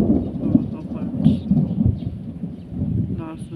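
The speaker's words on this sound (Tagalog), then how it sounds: "Lakas ng kidlat." Rumbling thunder from a thunderstorm rolls continuously through the whole stretch, loud and low, with rain hinting in the background and no talking.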